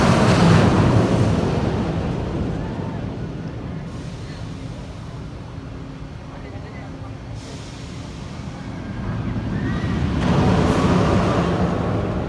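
The Kingda Ka roller coaster at Six Flags Great Adventure gives a broad, steady rushing roar that eases off in the middle and swells again near the end, with voices in the background.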